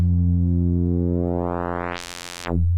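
A Bitwig Phase-4 synthesizer tone starts as a pure sine and grows brighter and buzzier as its pulse width is changed, then turns harsh and thin before snapping back to a smooth tone, held steady and loud throughout.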